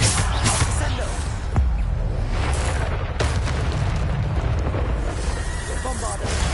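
Repeated Bombarda blast spells bursting in Hogwarts Legacy, a dense run of loud booms and crackling impacts layered over continuous game noise, with several sharp hits standing out.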